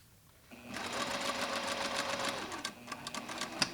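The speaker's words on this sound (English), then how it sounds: "we're going to sew all the way down to where you see the fold right there" Sewing machine stitching a seam on custom pants, a steady close motor whir running for about two seconds after a brief pause, then slowing into short bursts for a back tack.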